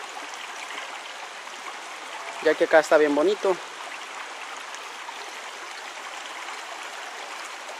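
Steady rushing and trickling water runs throughout as a river flows around rocks and a pyramid-shaped stone in midstream. Someone speaks briefly over it midway.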